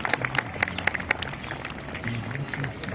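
A crowd at a Republic Day parade claps in scattered, uneven bursts, moderately loud and somewhat distant, with a little background chatter.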